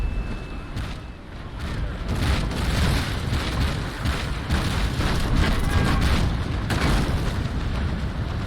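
Ship cannons firing broadsides in the naval combat game Naval Action, a run of heavy booms and bursts that overlap into a continuous loud barrage with dense rumbling between shots.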